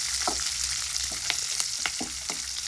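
Curry leaves crisping in hot oil in a pan for garlic puffed rice, a steady close sizzle with scattered crackles and pops over about three seconds and no voices.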